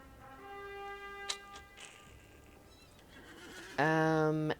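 A horse whinnies with a long harmonic neigh in a fantasy role-playing game set in Mirkwood, followed by a louder, brighter whinny near the end over faint background ambience.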